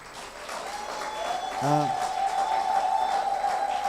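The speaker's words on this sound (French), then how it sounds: "Est-ce qu'on peut acclamer le Seigneur pour l'apôtre Suresh?" A church congregation applauds and cheers for an apostle named Suresh, a steady crowd clapping that swells midway and holds at full strength, while a sustained musical tone rings underneath.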